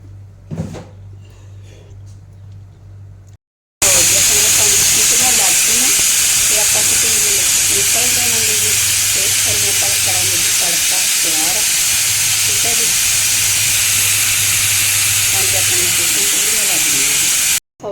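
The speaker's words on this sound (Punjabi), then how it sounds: "ਆਪਣੀ ਸਟੀਮ ਹਜੇ ਨਿਕਲ ਰਹੀ ਹੈ ਜੀ ਫਿਰ ਆਪਾਂ ਕੁੱਕਰ ਦਾ ਢੱਕਣ ਖੋਲਾਂਗੇ" A pressure cooker of lauki chana dal vents steam: after a few quiet seconds, a loud, continuous, close hiss rushes out and holds steady to the end, while a voice talks underneath.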